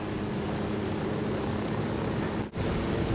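A helicopter takes off in the Ghost Recon Wildlands video game, its steady engine and rotor roar filling the scene at constant loudness, with a brief dip near the end.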